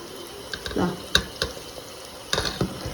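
Milk cream cooking down into ghee in a pan gives off soft, intermittent sizzles and bubbling pops, with a few sharper spits rising over a quiet frying hiss.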